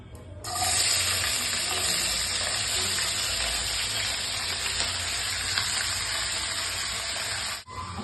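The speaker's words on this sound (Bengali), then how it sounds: "সবজিগুলো এখন আমি কড়াইতে দিয়ে দেবো।" Mixed vegetables frying in hot oil in a wok for chow mein, a loud steady sizzle that starts abruptly and holds evenly for several seconds, close up with no talking.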